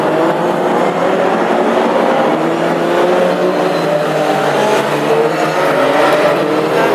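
Classic hot rod race cars at Northampton pull away together onto the warm-up lap, a steady, loud, continuous engine roar with layered tones held at an even level throughout.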